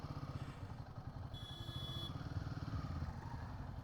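A new Suzuki Avenis 125 scooter engine runs with a steady, close mechanical hum and light clatter, holding an even level throughout with no talking.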